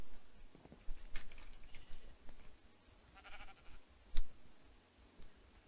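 A baby sheep in the video game TerraFirmaCraft gives several short bleats, mixed with light clicking and pattering footsteps, fairly faint overall and with no talking.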